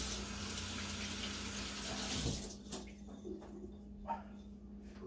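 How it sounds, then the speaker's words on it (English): Water runs steadily from a kitchen tap while hands are rinsed, a loud continuous hiss that cuts off about halfway, leaving a low hum and a few soft drips and knocks. "give me 1 second to rinse my hands off"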